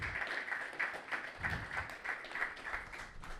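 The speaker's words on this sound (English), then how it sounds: "You guys deserve a round of applause," A crowd claps steadily for a few seconds, a dense patter of many hands at moderate distance with no voices standing out.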